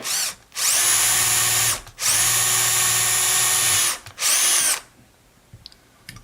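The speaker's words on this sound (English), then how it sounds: "I'll drill a hole and put a set screw in." A power drill whirs loudly in three sustained bursts, the last one short, drilling a hole for a set screw, then stops and leaves quiet room noise with faint clicks.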